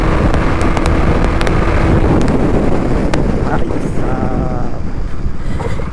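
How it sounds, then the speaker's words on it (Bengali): Strong wind buffets the microphone while a rider travels at high speed on a naked motorcycle, a loud continuous roaring rush that never lets up. "উইন্ড ব্লাস্টের কারণে বেশি স্পিড উঠছে না ইউকে এই একটাই প্রবলেম ন্যাকেট বাইকে"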